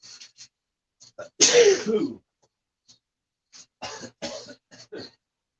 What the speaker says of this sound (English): I got a sneeze coming